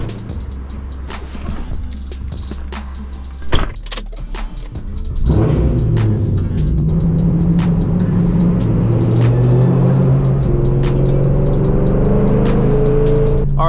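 A 5th-generation Chevrolet Camaro SS with a violent shaking problem drives along, starting with a few sharp clicks and knocks before a steady, loud engine and road drone builds and holds to the end.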